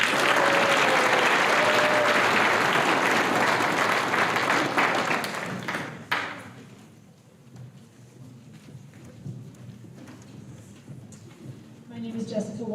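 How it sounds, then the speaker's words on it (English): Loud, full audience applause at a high school senior awards night fills the first half, then thins out and fades as a voice begins speaking. "So give them a round of applause."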